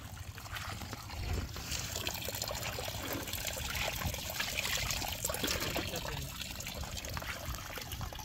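Hot engine-cooling water drains out of a power tiler during washing, making a continuous close splashing trickle and pour with a surge around the second second, while people talk over it.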